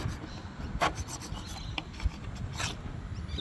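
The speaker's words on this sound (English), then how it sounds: "just sort of gently scrape it up like that. Just get a little bit of the paint off there." Paint being scraped off wood by hand, a slow job with soft rasping strokes and a few sharper scratches over a quiet, steady background, with no talking.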